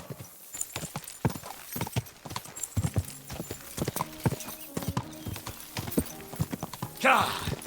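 Steady clip-clop of horse hooves trotting at a quick, even rhythm, with a brief burst of noise near the end, in Kingdom Come: Deliverance 2.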